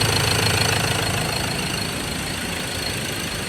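A 2018 Ford Ranger 2.2 diesel idles steadily after an injector replacement, a loud, continuous engine rumble with a faint knocking texture and no talk.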